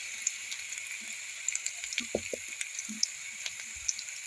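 Chopped garlic and ginger frying lightly in hot oil, a faint, steady crackling sizzle with small pops scattered throughout and a few soft low knocks in the middle, no voices.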